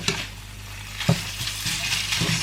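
Ground meat sizzles in a pan while being stirred, with a steady fry and a few sharp utensil clacks and scrapes against the pan, close up and without talk.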